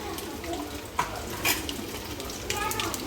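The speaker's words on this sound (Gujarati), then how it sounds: "રાઈ ફૂટી જાય" Mustard seeds pop in hot oil with chili pieces in a pan as a tempering for bottle gourd muthiya, giving a steady sizzle with a few sharp pops standing out near the start, middle and end.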